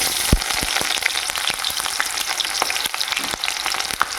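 Onions frying in hot oil in a pan, a steady close crackling sizzle with scattered sharper pops and a few stirring knocks throughout.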